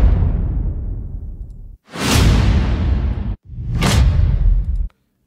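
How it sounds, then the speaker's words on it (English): Cinematic trailer whoosh hits from the AVA Music Group Quantum library: three loud, heavy impacts, each with a rushing, bright swoosh and deep boom body, separated by brief silences. "Then we have whoosh hits."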